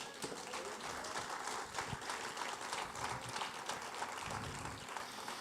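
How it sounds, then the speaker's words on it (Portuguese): A church congregation claps during a service, a faint, distant and steady patter of applause with no voices over it. "Aplauda o Senhor."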